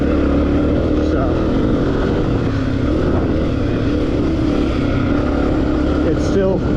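A 2023 Honda CRF250F dirt bike running steadily underway, a continuous buzzing engine drone with wind noise, heard from close by throughout.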